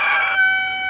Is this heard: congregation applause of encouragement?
no